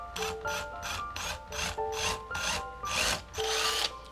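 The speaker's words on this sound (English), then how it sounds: "I'll drill a pilot hole." Pilot hole being drilled into a wooden fishing lure on a lathe, a series of about eight short, rhythmic grinding and whirring bursts with tonal ringing, close and fairly quiet, with no talking.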